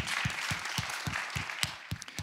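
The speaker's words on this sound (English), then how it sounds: "give yourselves a round of applause for being here and taking the interest in here" Seminar audience applauding, a steady wash of many hands at a moderate distance, with a regular thumping beat running underneath.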